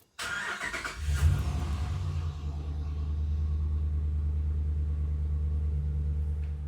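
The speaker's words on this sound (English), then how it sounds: "Gonna turn the truck on." A Ram pickup truck's engine cranks and catches with a sudden burst, briefly revs, then settles into a steady, close, low idle rumble that runs to the end.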